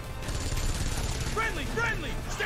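Machine gun fire from Final Fantasy VII Remake, a dense continuous rattle of automatic shots with crashing battle sounds, heard under people talking.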